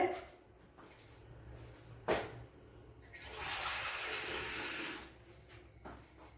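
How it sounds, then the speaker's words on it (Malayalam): Water pours steadily into a pot of fish curry for a couple of seconds, framed by a few clinks and soft kitchen sounds. "ഇനി ഇതിന്റെ വേവിന് ആവശ്യമായ വെള്ളം ഒഴിച്ചു കൊടുക്കാം."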